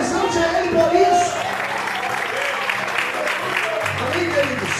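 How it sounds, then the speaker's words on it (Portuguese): A church congregation claps and cheers in praise during a Portuguese-language sermon, a steady mid-level applause with voices and a sustained musical tone beneath it. "aplaude o Senhor, exalte a Ele por isso"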